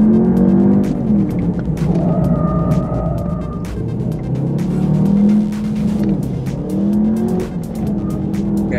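A car on new Bridgestone S007A tires is pushed hard on a test drive, its engine droning and revving steadily while the tires squeal and scrub through repeated swells of load, close and loud throughout.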